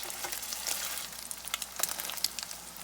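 Crab cakes frying in a pan after being flipped, a dense continuous crackling sizzle close up with small popping bursts.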